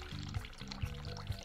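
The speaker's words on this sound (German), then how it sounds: "Wir können heißes Wasser laufen lassen." Hot water runs from a tap into a sink in the horror game The Cat Lady: a steady pouring stream over low, droning tones, with no voices.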